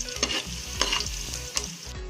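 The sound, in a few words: frying in pan for Arabian rice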